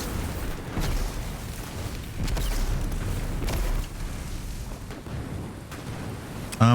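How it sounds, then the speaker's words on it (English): Grenade blasts in the sci-fi shooter Destiny 2: Beyond Light, a series of deep booming explosions with rumbling low end and mechanical clatter, moderately loud and continuous, ending in a sharp louder burst. "Suck on grenades."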